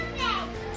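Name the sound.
children playing nearby at a camping spot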